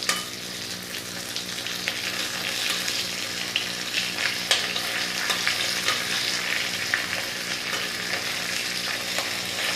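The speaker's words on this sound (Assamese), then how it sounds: "অকণমান শুকান জলকীয়া দুটা ভাজি লৈছোঁ" Two dry red chillies fry in a hot pan for an Assamese dish, giving a steady, close crackling sizzle throughout with small sharper pops, over a faint steady background tone.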